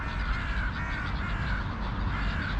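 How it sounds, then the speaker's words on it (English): Crows cawing while feeding outdoors in the evening after rain, with gulls nearby, a steady stream of overlapping harsh calls over constant background noise. "we have our little crows getting in on the action"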